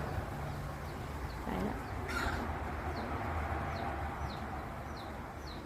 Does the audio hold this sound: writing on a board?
no